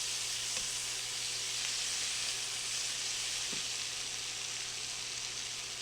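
Steady close sizzle of peppers browning and charring in a hot skillet for chicken fajita pasta, a continuous frying hiss with faint stirring clicks and no speech.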